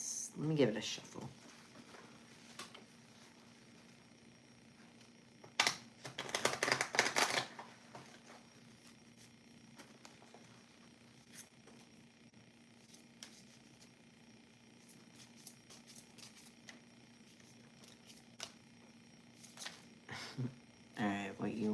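Tarot cards riffled and shuffled by hand during a love reading, heard as a dense rustling burst in the middle and another brief flurry at the end, with quiet voice and low hum between.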